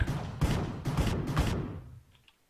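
Rapid bursts of gunfire in a Minecraft cops-and-robbers game, four loud close shots in quick succession, then fading to near silence.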